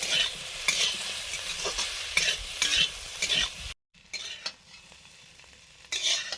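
Tender raw pumpkin pieces fry in a pan with bursts of sizzling and stirring scrapes that come in rhythmic waves. The sound briefly drops to silence and then continues more quietly before rising again, close and with no voices.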